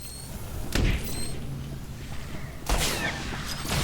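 Video game gunfire during a firefight on Cademimu: two sharp blasts about two seconds apart with faint game ambience between them and no talk.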